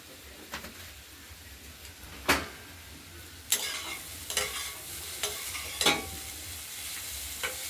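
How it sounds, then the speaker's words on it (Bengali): Chopped cauliflower and green peas stir-fry in a pan, soft sizzling running underneath while a spatula scrapes in several distinct strokes, close and with no voices. "আলু নয় এটা মটরশুঁটি দিয়ে ভাজা ভাজা হচ্ছে"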